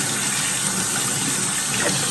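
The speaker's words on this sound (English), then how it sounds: "first thing I do is use hot water" Hot water gushes steadily from a tap, rinsing the parts of a cold press juicer after making green apple and spinach juice, a continuous close splashing flow with no pauses.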